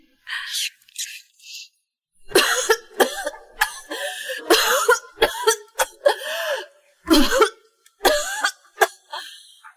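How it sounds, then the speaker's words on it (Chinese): A woman coughs heavily at close range in repeated harsh fits, short bursts clustered together with brief pauses between them. "妈，你咳嗽这么厉害"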